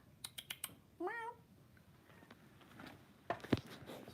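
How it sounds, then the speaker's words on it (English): A cat gives a single clear rising-and-falling meow outdoors on a cold day, preceded by a few sharp clicks and followed by scattered knocks and faint background noise. "Here comes a cat."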